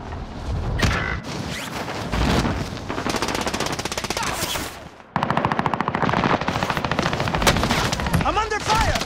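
Rapid automatic gunfire in the Call of Duty video game, dense machine-gun bursts with loud sustained rattling and brief pauses, continuing nearly throughout with a mechanical creak near the end.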